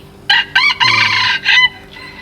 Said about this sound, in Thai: ฟังเสียงไก่กันไป แก้เบื่อนะสำหรับวันหยุด